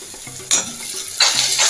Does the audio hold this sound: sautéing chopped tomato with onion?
yes